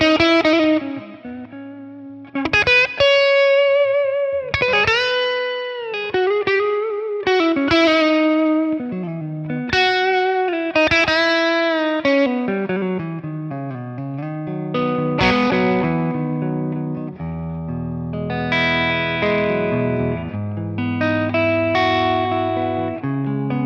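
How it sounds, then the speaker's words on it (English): Electric guitar soloing through a 1963 Fender Brown Deluxe amplifier with reverb: expressive melodic lines of bent and sustained notes, some lightly picked, with a reverb tail and a steady, fairly loud level. "I think this works really nice when we add some reverb to it."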